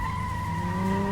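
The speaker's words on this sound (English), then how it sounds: "I don't know why I hit the handbrake there" Tires skid in a handbrake slide in the Dreamcast street-racing game Metropolis Street Racer, a steady sustained squeal over engine hum lasting the whole moment, loud and close.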